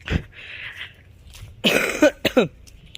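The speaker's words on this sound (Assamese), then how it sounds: "অলপমান কাহ হৈছে বহুত" A few harsh coughs close by, a short burst near the start and then a cluster of rough coughs and throat sounds later on.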